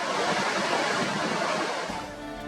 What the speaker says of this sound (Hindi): दरियाए पंचकूड़ा की शोर करती लहरें